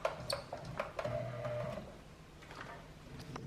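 A home sewing machine stitching in short, uneven runs with brief pauses, its needle clattering rapidly up close, the rhythm starting and stopping.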